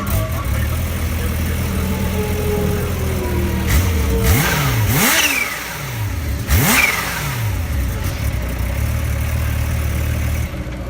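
A racing motorcycle at Barber Motor Speedway is revved hard, with a loud, close engine rising and falling in two sharp surges above a rough idle, and a few voices mixed in.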